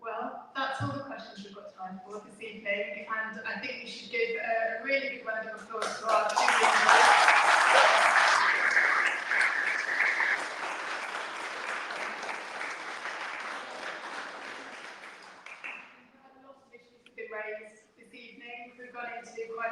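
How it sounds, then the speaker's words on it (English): Audience at a Senedd leaders' debate on Palestine bursts into a long, full round of applause that swells and then fades. Speech can be heard before the clapping and again after it dies down. "I think we should give a really big round of applause to our"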